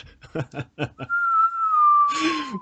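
A few short rhythmic bursts lead into a long, clear whistle that slowly slides downward, with a noisy burst near the end.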